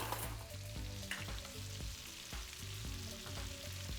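Turkey wings marinated in mustard fry steadily in a pan, a loud continuous sizzle and crackle close up with no talking.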